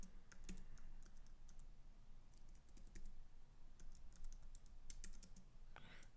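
Keys clatter on a computer keyboard as C code is typed in a programming lesson, a steady run of quick, crisp clicks in bursts with short pauses, close and fairly quiet over a low background hum, with no talking.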